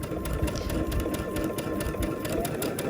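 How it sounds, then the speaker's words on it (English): A sewing machine stitches pieced fabric for a Tula Pink butterfly quilt at a 2.5 stitch length, making a fast, even, close mechanical chatter that runs steadily throughout. "And you're sewing with your pieced side on top."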